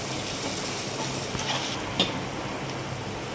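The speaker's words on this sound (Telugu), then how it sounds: "అల్లం వెల్లుల్లి పేస్ట్ సగం చెంచా వేసి అన్నీ బాగా కలుపుకోవాలి" Ginger garlic paste being stirred into a carrot fry in a pan, heard as a steady frying hiss with faint scraping and one small clink of the utensil against the pan.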